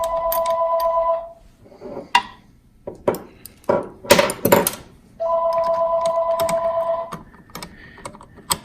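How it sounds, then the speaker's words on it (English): A telephone rings in a workshop during an air compressor repair, two long loud electronic ring bursts close by, separated by a stretch of clattering knocks and thuds from handling tools and parts. "Why is it that when the phone rings, it irritates me?"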